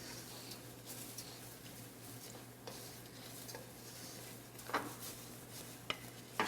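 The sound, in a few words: sauteing rice with garlic in a pan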